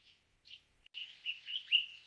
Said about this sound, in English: It has a beautiful and melodious voice, especially the males, who sing to attract females.